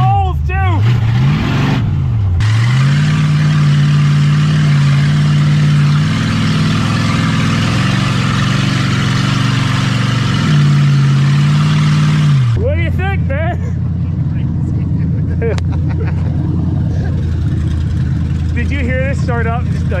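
A 1978 Lincoln engine drones loud and steady while driving, a deep rumbling tone that shifts pitch with speed changes, then drops to a lower rumble near the end as someone talks over it.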